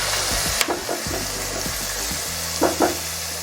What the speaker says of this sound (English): Now I will add the chopped nicely fined onions to it.